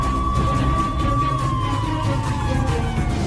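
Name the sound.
ambulance siren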